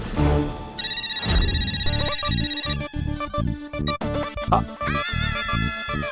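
Phone ringtones in a Hindi TV comedy, several electronic melodies and chimes overlapping into a busy, jangling cluster of tones, loud and insistent with no voices.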